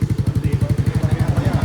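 A motorcycle engine runs after a faulty relay wiring fix, a loud, close, fast regular chugging pulse that stays steady throughout.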